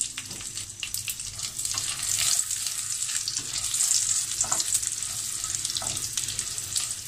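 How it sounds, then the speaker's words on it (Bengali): Pistachios, almonds and raisins roasting in a pan for malai lachcha semai, a bright continuous sizzle and rustle of stirring that swells and eases, close and fairly loud with no talking. "হালকা করে একটু রোস্ট করে নিতে হবে"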